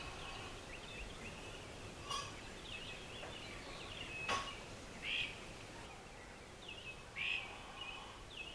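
Wild birds call around a backyard feeder: a few faint, short, scattered chirps and calls rise over a low, steady outdoor hiss.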